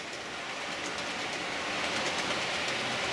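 A model train at speed step 5 hauls light tanker wagons up a ramp, giving a steady, even mechanical rumble and rail noise that swells slightly toward the end, with no talking.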